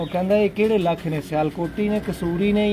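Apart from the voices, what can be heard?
No everyday noise stands out behind the speech.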